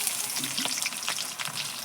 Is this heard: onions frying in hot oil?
yes